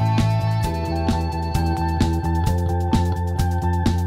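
Raw, unprocessed acoustic drum kit playing an eighties-style groove, with steady kick and snare hits and a continuous wash of cymbals, close and loud, with no talking.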